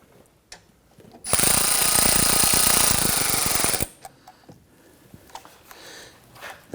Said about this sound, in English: Once we have your hardware installed, let's go ahead and snug everything down.